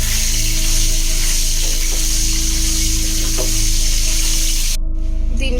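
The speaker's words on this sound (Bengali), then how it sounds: "এখন আমরা এগ ভেজে নেব" Eggs seasoned with turmeric and salt frying in hot oil for a Bengali chicken and egg biryani, a loud steady sizzle with crackling pops throughout, no voices.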